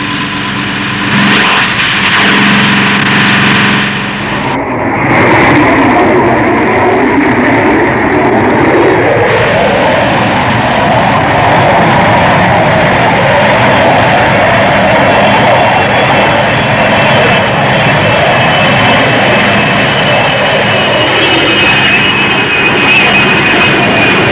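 Fireflash aircraft engines from the 1966 Thunderbirds episode roar steadily throughout, a continuous loud jet drone with a rising whine partway through, heard alone without talk.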